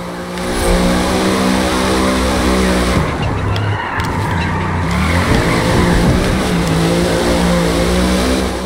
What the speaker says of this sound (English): And she drifts.